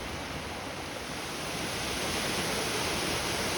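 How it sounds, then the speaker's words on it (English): A river with small waterfalls pours in a steady, broadband rush, close and continuous without pause or voices. "Finally, the sound of the water surrounds me. This river, with its small waterfalls and constant murmur"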